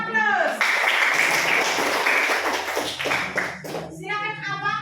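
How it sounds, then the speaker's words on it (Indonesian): A class of schoolchildren claps in a lesson, a burst of applause with a teacher's voice and children's talk over and after it. "Ya, berikan aplaus."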